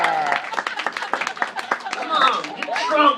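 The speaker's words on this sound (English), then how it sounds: "Come on, get a strong clap" Comedy club audience clapping in a scattered, uneven burst of many hands, close and fairly loud, with crowd murmur and a voice talking over it.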